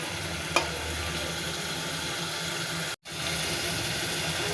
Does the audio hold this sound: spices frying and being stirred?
yes